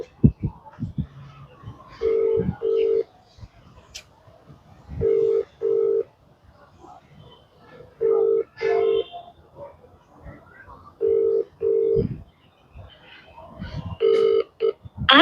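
A ringback tone from a phone call to a fire department chief in Surat repeats in paired pulses roughly every three seconds, continuing unanswered, with faint talk and background noise between rings.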